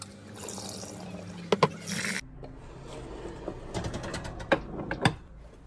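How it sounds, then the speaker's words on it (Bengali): Lentils are washed by hand in water, a close, rough rubbing and swishing with splashes and a few sharp knocks against the bowl, the scrubbing starting and stopping. Nobody talks. "এখন আমি এই ডালগুলোকে ভালো করে ধুয়ে কিছু সময়ের জন্য ভিজিয়ে রাখবো।"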